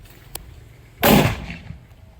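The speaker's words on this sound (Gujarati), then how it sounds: "તો હવે હું બંદૂક ફોડું છું." A Diwali firecracker gun fires once, a single sharp loud bang with a short ringing decay, preceded by a faint click and set against quiet outdoor background.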